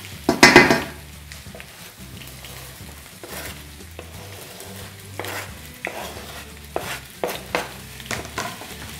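Potatoes and onion frying in oil in a pan for a Spanish potato tortilla, with steady sizzling under repeated scraping and clinking stirs of a utensil against the pan, close and fairly loud, with no speech.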